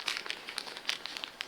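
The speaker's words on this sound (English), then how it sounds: "It's just a plastic bag." A low-density polyethylene plastic bag around a newly unboxed HMT Gordon dado plane crinkles in quick irregular bursts, fairly close and soft, with no talking over it.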